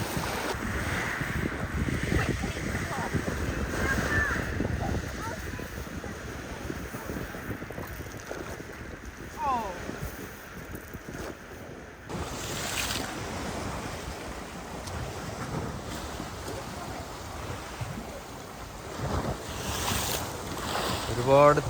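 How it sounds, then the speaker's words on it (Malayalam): A calm sea with small waves washes along the Greek coast under constant wind buffeting the microphone, a soft steady surf wash with no distinct breaking waves. "ഒരുപാട് തിരമാലകളൊന്നും ഇല്ലാത്തൊരു കടൽ കേട്ടോ"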